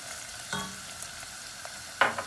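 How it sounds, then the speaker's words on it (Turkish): Chopped onion, carrot, peppers and garlic sauté in a pan for a chickpea and vegetable stew, giving a faint, low sizzle broken by a few soft stirring scrapes, with one sharper scrape near the end. "Soğanımız, havucumuz, biberlerimiz, sarımsağımız iyice kavruldu."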